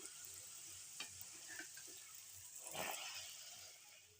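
Bhatura fries in oil over a high flame, giving a soft, continuous sizzle with a few faint bubbling swells, quiet and steady throughout.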